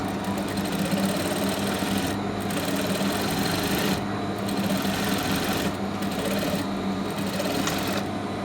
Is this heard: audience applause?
no